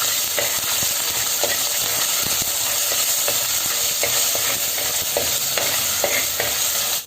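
Curry leaves, green chili and ginger garlic paste fry loudly in a pan for a crab curry, a constant close sizzle broken by repeated scraping stirs.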